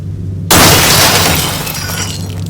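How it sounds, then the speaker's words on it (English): Glass shattering as a sound effect: a sudden loud crash bursts in over a low hum, then a spray of tinkling shards fades over the next two seconds. "The sound of broken glass rang throughout the house"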